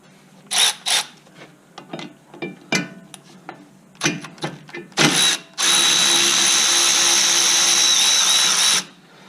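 A power tool loosens the 14 mm CV axle nut on a Lincoln Navigator, with a string of short clicking bursts and handling knocks before one loud sustained whir of about three seconds.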